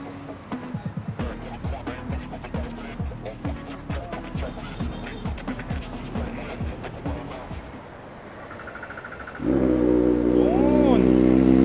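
Kawasaki ZX-4RR with a Villain R11 full titanium exhaust, a rapid series of sharp revs and pops at close range, then after a short lull a loud sustained high-revving roar; a voice talks over part of it.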